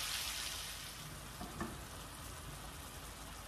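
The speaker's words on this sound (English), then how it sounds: "I got these shrimp cooking in a butter mixture" Shrimp fry in a butter mixture with Cajun seasoning for a New Orleans BBQ shrimp po' boy, giving a soft, steady sizzle with a faint clatter partway through, heard alone at low volume.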